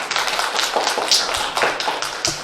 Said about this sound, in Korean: 우리 경례 박수 한번 드릴까요? 우리 어머님께.